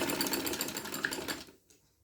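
A sewing machine runs steadily while stitching dori piping onto a kameez, a close, even whir that stops short near the end and leaves quiet.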